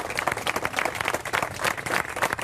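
Applause from a crowd gathered at a street candlelight vigil demanding justice for Nancy. Dense, steady clapping continues close up for the whole stretch.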